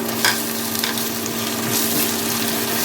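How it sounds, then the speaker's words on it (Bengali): Continuous crackling sizzle of onion paste with green chillies frying in oil, fairly loud and steady, with a couple of faint scrapes near the start. "পেঁয়াজ বাটা একটু ভালো করে ভেজে নিতে হবে"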